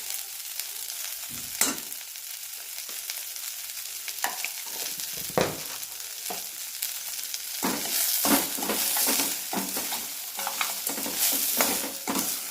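Ridge gourd peel chutney sizzles and fries in a pan while a spoon stirs it in repeated scraping strokes, the crackle building up louder toward the end, with no talking.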